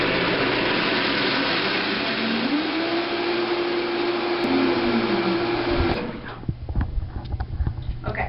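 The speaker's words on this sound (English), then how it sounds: "So we're going to turn the Vitamix on. It's going to get kind of loud." A Vitamix blender whirs at full power through a thick vegan alfredo sauce, a loud steady roar with a wavering pitch, then cuts off and leaves softer clunks and handling noise.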